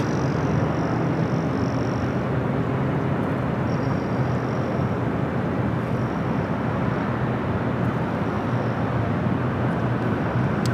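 A Lufthansa Boeing 747-8 in retro livery rumbles loudly and steadily at LAX, a broad, continuous jet roar with a faint high whine running over it throughout.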